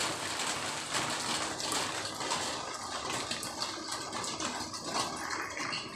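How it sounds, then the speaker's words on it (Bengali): Steady rain falling outside a home during a monsoon shower, a dense continuous hiss with scattered droplet patter, fairly close and uniform throughout, with no voices. "আর এদিকটা এই যে বৃষ্টি।"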